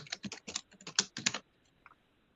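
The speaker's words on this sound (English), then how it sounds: "Ooh, it's typing." Fast bursts of typing on a computer keyboard, close and fairly loud for about a second and a half, then trailing off into quiet with one faint tap.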